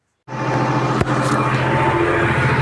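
Solis 50RX tractor engine running in third gear, starting abruptly and then holding a loud, steady, close rumble with a brief knock early on.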